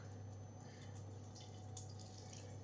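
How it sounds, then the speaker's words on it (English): Warm water tipped out of a kettle trickles and drips softly in a home kitchen, a faint, steady pour beneath a constant low hum. "me go tip a little bit of warm water out of the kettle"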